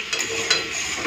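Chicken pieces and potatoes sautéing together in a wok for chicken biryani give off a steady, close broadband sizzle with light stirring, briefly swelling twice.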